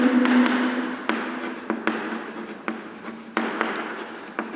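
Chalk or a marker writes on a board during a physics lecture, making close, continuous scratchy strokes broken by sharp taps where new strokes begin. No one speaks.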